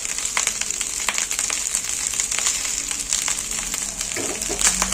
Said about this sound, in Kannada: ಚೆನ್ನಾಗಿ ನೀಟಾಗಿ ಫ್ರೈ ಮಾಡಿಕೊಂಡ್ರೆ